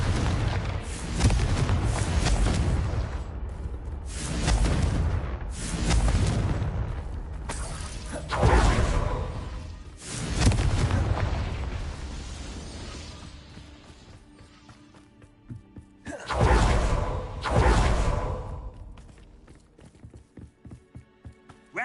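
Confringo fire spells blasting in the game Hogwarts Legacy: a run of heavy, booming explosions strikes every few seconds over a rumbling battle background, loud and close, with a brief lull before two final blasts.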